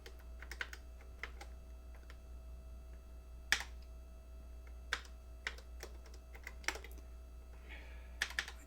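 Keys clacking on the Famicom BASIC keyboard, a plastic membrane-style keyboard for the Nintendo Famicom, in irregular bursts of sharp taps with short pauses between, close and fairly quiet over a steady low hum.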